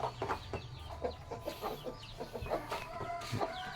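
Several chickens cluck and chatter in a steady, busy stream, with short repeated calls overlapping at close range.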